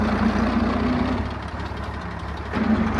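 A Farmall 1206 tractor engine runs steadily in road gear, a loud, continuous low diesel rumble with a strong even hum that dips slightly midway and then swells back up.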